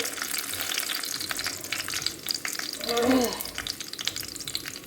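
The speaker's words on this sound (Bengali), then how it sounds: "প্রথমে আমি শুকনো লঙ্কাগুলো ভেজে নেব।" Dry red chillies frying in hot oil in a wok, a continuous close sizzle with occasional stirring scrapes and bubbling throughout.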